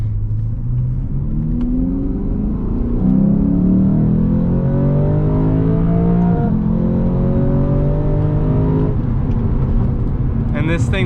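Lexus GS F sedan driven hard on a track in track mode, engine droning loud and close as revs climb and fall through gear changes, with a steady rumble throughout.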